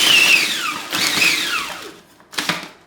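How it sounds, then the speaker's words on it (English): A food processor pulses cold dry pie-crust ingredients in short bursts; each burst whirs up loudly, then winds down in falling pitch, with three bursts in quick succession. "I'm gonna add everything into the food processor and mix the dry ingredients first"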